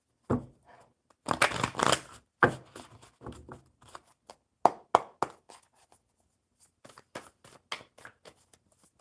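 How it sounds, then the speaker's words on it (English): Crisp bursts of cards being riffled and bridged, a few quick shuffles in a row with short pauses between, close by and fairly quiet. "one more good shuffle for Lizzie."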